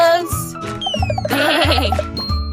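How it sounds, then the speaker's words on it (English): A sheep bleats over a bouncy children's nursery-rhyme tune in a farm-animal learning song, with wavering bleats sounding loud and clear above the music. "And this is a sheep."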